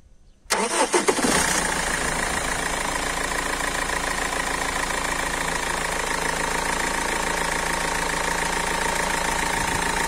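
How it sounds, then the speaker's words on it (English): A BMW E46 320td Compact diesel engine cranks briefly after a quiet moment, then catches and settles into a steady, loud, clattering idle that runs to the end. "Now let's crank the engine to see if everything is okay."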